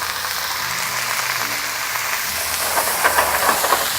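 Water poured into a hot pan of fajita vegetables, a loud, continuous steaming hiss and sizzle that swells with crackling toward the end, close by.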